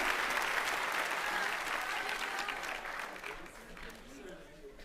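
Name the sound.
applause for award winners at commencement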